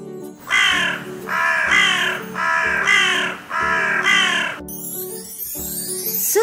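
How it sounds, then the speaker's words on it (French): Crows caw about five times in a steady, evenly spaced series, loud and close, with soft music running underneath. "Ce sont des corneilles qui croassent."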